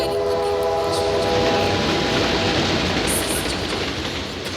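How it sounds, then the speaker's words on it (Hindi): A train crosses a railway bridge in a loud, continuous rumbling roar, with a sustained horn-like tone early on and faint higher squeals later. It is heard as background noise on a phone call, and no voices come through. "ट्रेन ब्रिज पे से गुजर रही है"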